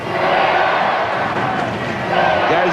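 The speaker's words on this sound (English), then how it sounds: "Goes the cheer from the crowd now for the Steelers" A rugby crowd cheers for the Steelers with a broad, sustained roar that swells again near the end, and a commentator's voice runs over it.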